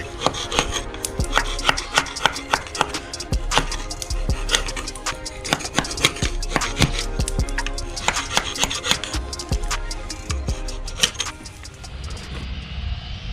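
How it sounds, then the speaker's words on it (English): Barnacles being scraped from the hull of a Sea Ray boat, a rapid run of sharp, close scraping and tapping strokes in an irregular rhythm that thins out near the end. "so got my barnacles scraped off"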